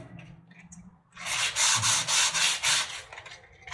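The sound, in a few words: hand sanding a wooden front door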